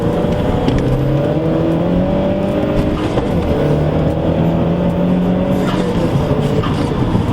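A Mazdaspeed 3 accelerates hard with torque steer, its turbocharged engine droning loudly and continuously from inside the car, with rising engine tones and road and tire noise throughout.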